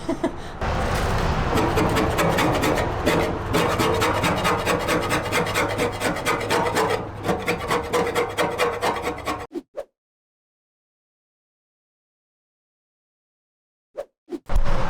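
Close, rhythmic rasping strokes of a scraper working coating off an Evo 8/9 gas tank, continuous for about nine seconds before stopping into silence, with a brief clatter at the end.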